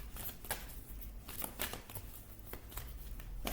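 Oracle cards from the Enchanted Map deck shuffled by hand, giving soft repeated riffling and sliding bursts at a low, close, quiet level.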